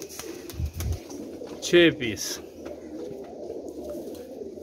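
Pigeons coo in a loft, a few low calls up close, while someone speaks briefly over them.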